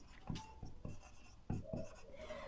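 Marker or chalk writing on a board during a classroom lesson, a run of close, scratchy strokes in quick irregular taps, moderately quiet with no voices.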